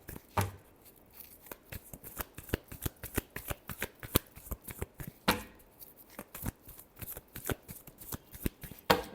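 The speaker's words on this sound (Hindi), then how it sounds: "last shuffle," A tarot deck is shuffled up close, giving rapid, crisp flicking and riffling card snaps in an uneven rhythm, soft but clear, with no talk.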